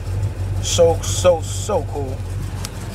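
A car engine fitted with ceramic coated headers idles steadily in the background, its low hum running under a man's close, excited voice throughout.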